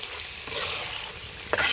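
Meat with spices sautéing for tehari in a pan on a home village stove, with a steady close sizzle and a sharp stir or scrape near the end, and no one speaking.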